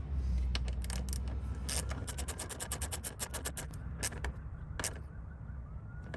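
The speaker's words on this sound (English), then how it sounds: "I'm just going to use the same 1/4" ratchet, extension, and socket to tighten it by feel" A 1/4-inch socket ratchet with an extension tightens a bolt by hand on the door sensor of a 3rd-generation Toyota 4Runner. Quick runs of close, crisp ratchet clicks come in bursts, with no speech.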